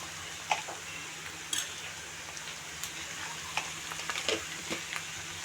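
Ginger paste and turmeric being stirred into goat tripe curry frying in a pan: a steady low sizzle broken by a few sharp scrapes and clinks of the spoon against the pot.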